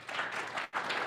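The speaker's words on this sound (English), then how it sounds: "Another round of applause." A meeting crowd applauds in a brief burst of clapping, moderately loud, with a short dip in the middle before the clapping resumes.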